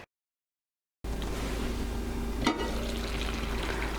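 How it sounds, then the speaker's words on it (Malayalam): Coconut curry for an Onam sadhya pineapple pachadi stirred in a cooking pot, a steady close scraping and bubbling sizzle with one sharp clank of the spoon midway, after a second of silence at the start. "കറി ഒന്ന് ഇളക്കി കൊടുക്കട്ടെ."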